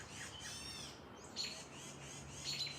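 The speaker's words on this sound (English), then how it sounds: "Oh, the bird's going crazy." Birds chirping and tweeting in a backyard, quick bright calls repeating at a faint, moderate distance over quiet outdoor background.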